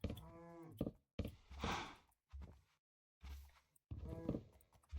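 A cow in a video game moos several times in short separate bursts, fairly loud and close, with brief silences between calls.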